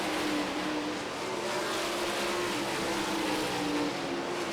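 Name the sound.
World of Outlaws sprint cars racing at Williams Grove Speedway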